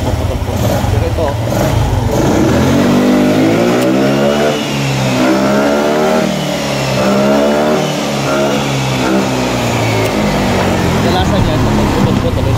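Haojue Lindy 125 motorcycle with a converted 4-pin CDI, its engine revving up and down loudly and close, rising and falling pitch sweeps over a steady idle, with a voice speaking alongside.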